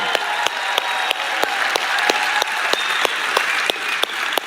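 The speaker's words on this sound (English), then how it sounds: "A round of applause for Jim Caldwell, please." An audience breaks into a round of applause for Jim Caldwell after a drone show, a dense sustained clapping with crisp individual claps standing out, heard alone without speech.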